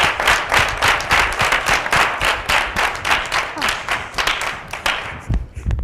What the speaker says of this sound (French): Nous allons te raccompagner sous des applaudissements,